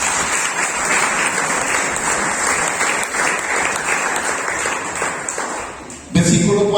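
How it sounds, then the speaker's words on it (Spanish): A church congregation claps in a long, even wash of applause that fills the room, then it cuts off abruptly into a louder voice and sound near the end. "Denle un aplauso al Señor."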